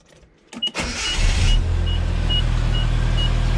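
After a brief electric whir, the engine of a Toyota FJ40 cranks and fires up, then idles steadily and loudly, with a faint repeating chime in the background.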